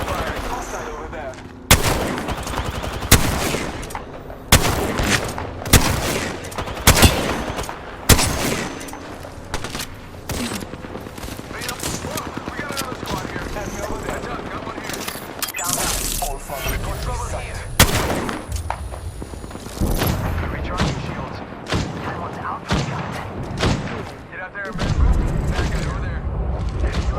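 Gunfire in the video game Apex Legends, with rapid bursts of automatic shots and heavy booms that come repeatedly and loud, mixed with game sound effects and speech.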